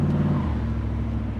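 A Pontiac Firehawk with an LT1 engine runs steadily nearby, a low, even idle rumble with a faint rise at the start and no talk over it.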